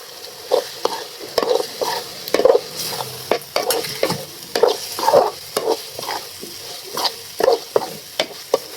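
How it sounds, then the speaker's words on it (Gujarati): Paneer gets stirred into gravy in a pan, with repeated close scraping and clacking strokes of a spoon over a low sizzle, coming in a steady, uneven rhythm for several seconds. "હવે જે આપણા પનીરને એડ કરીશું આમાં અને તેમને સરખી રીતે આપણે મિક્સ કરી દઈશું"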